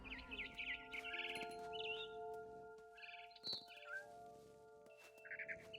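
In the game What Remains of Edith Finch, a barn swallow outside a window gives repeated short chirps and twitters. They come in scattered bursts over a sustained tonal music bed, moderately close and clear.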